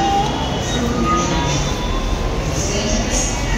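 A metro train rumbling and clattering loudly at close range, with a steady rolling roar and faint high squeals, as people talk over it.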